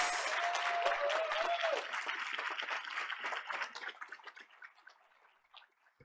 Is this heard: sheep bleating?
no